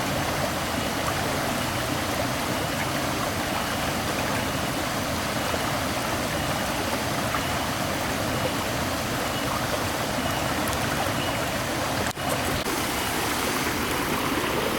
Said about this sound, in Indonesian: Jadi ini depan tenda kita sudah aliran air, airnya jernih.